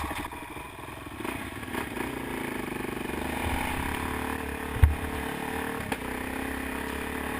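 Kawasaki KLX dual sport motorcycle climbing a trail with rain ditches, engine droning steadily with small revs and a sharp clunk midway, recorded up close with no speech.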